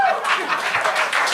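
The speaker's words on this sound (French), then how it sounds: "puis on l'applaudit, s'il vous plaît!" A TV game-show studio audience breaks into applause for a contestant, a short, dense burst of clapping that continues throughout.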